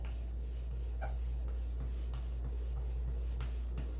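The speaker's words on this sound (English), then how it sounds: "more sanding." Hand sanding on a wooden airplane: about ten steady, rhythmic rasping strokes, each a close, bright scratch, repeating evenly with no talking.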